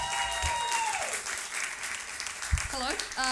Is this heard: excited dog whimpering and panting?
no